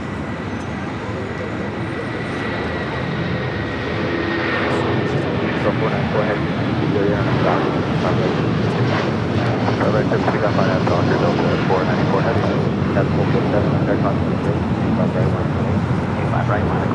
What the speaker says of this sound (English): Another United 757 taking off.